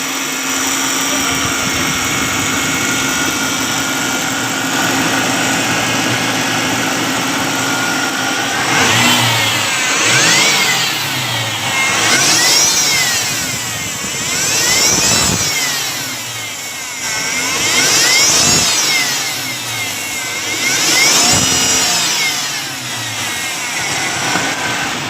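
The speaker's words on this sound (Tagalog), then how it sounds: "Whining noise." Car engine with about 100,000 km on it, its belt tensioner and belt whining, runs loud and steady, with a rhythmic series of sweeping rises and falls every few seconds over the constant drone.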